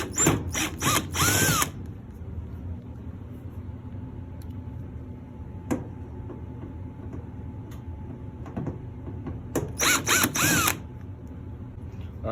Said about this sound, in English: So I'm just going to be using a drill or Phillips head bit to take this thing apart.